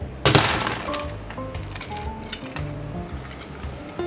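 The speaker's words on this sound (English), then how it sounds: "Add ice directly to the glass." Ice cubes dropped straight into a cocktail glass holding gin, apple, tea, sour and sugar syrup, a sharp glassy crack up front, then a series of light clinks and rattles as the cubes settle, close and clear.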